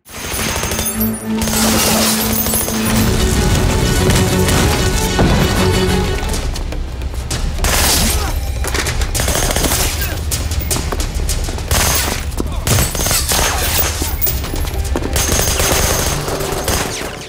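A film shootout between Israeli soldiers and surrounded fighters, with dense, loud bursts of automatic gunfire. Shots, crashes and booms pile up almost without a break for the whole stretch.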